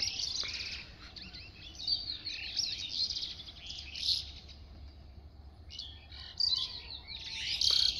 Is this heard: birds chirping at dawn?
yes